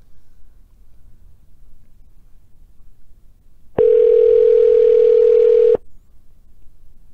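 A telephone call connects with a single steady ringing tone lasting about two seconds. Quiet line noise comes before and after it.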